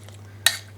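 A block of frozen chicken stock dropped into a slow cooker pot, a single sharp clunk against the vessel over a steady low hum, with no talk.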